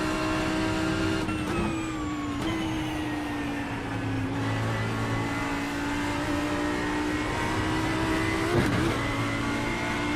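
GT3 race car in iRacing held at part throttle, its engine a steady continuous drone with slowly shifting pitch, a couple of brief lifts and recoveries, loud and close throughout with no talk.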